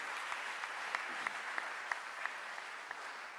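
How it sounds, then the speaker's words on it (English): Faint, distant audience applause, a steady wash of clapping with a few sharper individual claps standing out. "let's give it a big round of applause for all the amazing stuff that you people are making"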